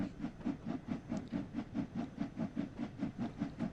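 Steam locomotive in Train Sim World 6 chuffs rhythmically as it pulls away, a steady even beat of exhaust bursts about four per second, each with a hissing edge, moderately quiet and alone.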